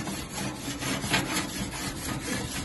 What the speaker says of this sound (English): I'm gonna give this a little scrape here.